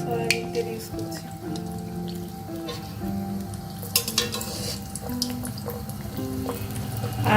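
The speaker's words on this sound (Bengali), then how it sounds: "আমি ডোনাটগুলো তেলে দেব, আর আমি তেলটা সয়াবিন তেল ইউজ করছি।" Chocolate donuts sizzle steadily as they fry in hot soybean oil, a continuous crackle running under a bed of background music.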